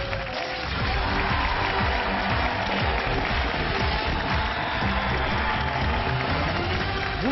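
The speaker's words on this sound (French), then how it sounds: "Vous avez raison de les applaudir." A studio audience on a French television game show applauds steadily for several seconds, a dense, even wash of clapping with a faint voice beneath it.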